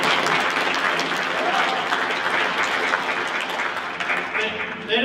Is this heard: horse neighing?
no